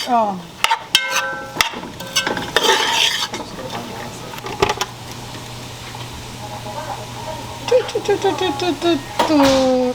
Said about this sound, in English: And then you put all the cilantro. Stir it.